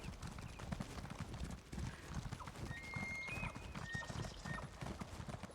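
Rapid, rhythmic hoofbeats of a galloping horse in The Elder Scrolls Online, Craglorn, thud steadily throughout, with a few faint high tones over the pounding.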